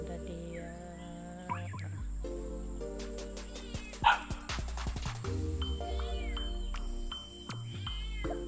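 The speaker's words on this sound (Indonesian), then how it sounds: "Anjing pun berbunyi sudah." A dog barks and yips in short bursts among a cat's meows, with a loud sharp outburst midway and a steady low hum beneath, outdoors without talk.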